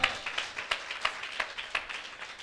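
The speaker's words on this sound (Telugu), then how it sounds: "చప్పట్లు కొట్టండి గట్టిగా." A church congregation claps during a sermon, keeping a steady rhythmic beat of roughly three claps per second. The clapping is moderately distant and continues throughout.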